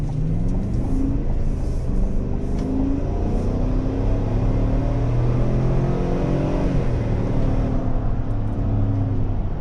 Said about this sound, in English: Motor does make a ton of noise. Sounds almost like a NASCAR when you get on it